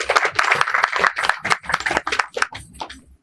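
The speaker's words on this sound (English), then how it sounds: "I don't think we should withhold a round of applause for him." Audience applause for a traditional ruler who came from his palace to a gathering of Abia elders: dense, rhythmic hand clapping from a crowd, steady for a few seconds and then thinning toward the end.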